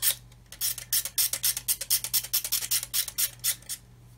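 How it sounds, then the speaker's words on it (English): A blade scrapes across a plastic part of a Meng 1/35 9K37M1 Buk scale model kit, a rapid series of about twenty short, crisp rasping strokes in a steady back-and-forth rhythm, close and clear. "If you keep the blade at an angle and go across, it will actually remove the plastic around it. So we can just sort of scrape and blend"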